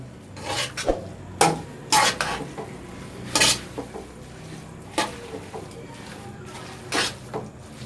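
Vegetable noodles seasoned with black pepper are tossed in a pan, with sharp, irregular scrapes and clanks of a utensil against the metal over a low background sizzle, and no voices.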